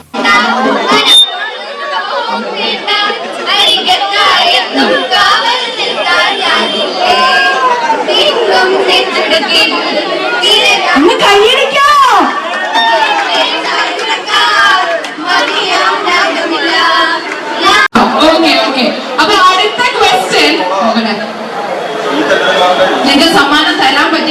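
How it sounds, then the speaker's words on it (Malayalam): A large crowd packed at Anchal College Junction in Kerala, waiting for Anna Rajan, chatters loudly and continuously, a dense close babble of many voices with occasional shouts and laughter. "അന്ന രാജനെ കാണുവാൻ വേണ്ടി അഞ്ചൽ കോളേജ് ജംഗ്ഷനിൽ വലിയ ജനക്കൂട്ടമായിരുന്നു"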